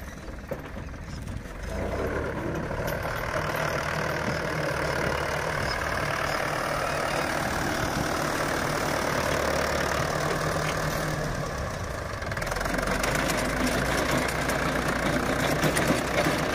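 A homemade automatic sugarcane planting machine pulled by a tractor runs in a field, giving a steady, dense engine drone with mechanical clatter that continues throughout, no talking.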